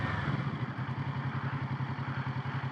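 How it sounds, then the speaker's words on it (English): Kawasaki Z650 motorcycle engine braking through downshifts, with a steady pulsing exhaust beat close by and a clattery mechanical edge, running continuously with no voices. "Yeah, just timing those downshifts down. All engine braking pretty much from there."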